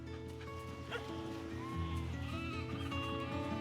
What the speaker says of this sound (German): Schafe in Herden.